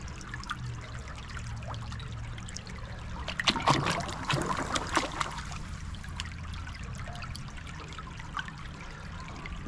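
Cold shallow stream water churned by someone wading near slag, a steady trickling flow with a burst of splashing movement in the middle, close and moderately quiet, no talking.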